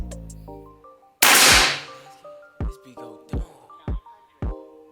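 Single sharp crack from an SR Extraction air rifle, a loud close burst that fades quickly, set among softer clicks and ringing electronic beeps before and after.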